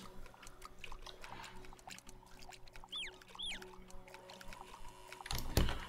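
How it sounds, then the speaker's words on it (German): Water poured over onion plants in the farming game Summer in Mara, heard as a soft trickle under light game music and chirps, ending in a short, louder splash. "Das kann ich immer ein bisschen Wasser drüber gießen, damit das besser wächst."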